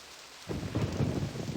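Rain falls and thunder rumbles in the video game realMyst, a sudden swell of rain noise and low rolling thunder after a brief quiet start.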